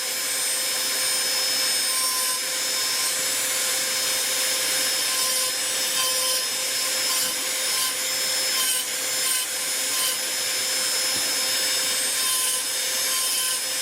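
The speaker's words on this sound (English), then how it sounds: "When you can sink that deep with a diamond burr" A Dremel with a diamond burr power carving soft wood for a Bigfoot figure, a steady high rotary whine with a gritty grinding rasp as the bit cuts in, close and continuous, with no talk.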